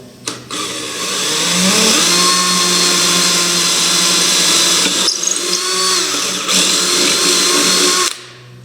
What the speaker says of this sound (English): I'm going to just go ahead and drill right into that